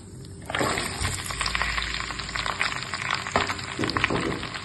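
Chopped onions, tomatoes and shallots sauté in a pan for a stuffed chicken Christmas dish, giving a continuous close, busy sizzle with spoon clatter and stirring noises scattered through it.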